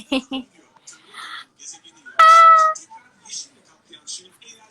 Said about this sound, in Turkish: kedi. Kedi. Kedi. Kedi.